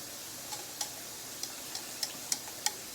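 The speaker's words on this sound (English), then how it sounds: "I'm going to get me a whisk and try to do this up a little bit better" A whisk beats buttermilk, sugar, shortening and salt in a bowl for yeast rolls, giving about seven sharp, evenly spaced taps against the bowl's side over a quiet background.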